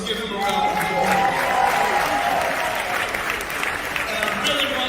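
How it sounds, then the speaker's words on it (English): An audience at a hip hop morning show event applauds steadily for about five seconds, a dense, even clatter of many hands at moderate distance without pause. "Let's give him a round of applause."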